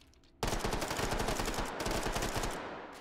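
Rapid automatic gunfire in the VR game Hot Dogs, Horseshoes & Hand Grenades, a fast, evenly spaced stream of loud shots starting abruptly and running for a few seconds before tapering off, with no voices.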